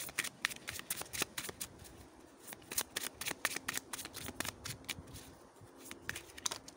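Tarot cards being shuffled by hand: a quick, irregular run of crisp riffling slaps and flicks, close and fairly quiet, continuing throughout without speech.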